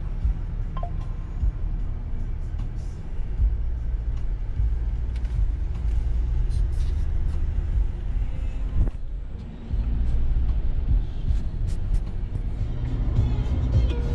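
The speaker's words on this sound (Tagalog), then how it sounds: "Oh, traffic mga boss." Road traffic rumbles steadily from inside a vehicle stuck in traffic in Langley, a continuous low engine and road drone with brief dips and scattered clicks, with no talk over it.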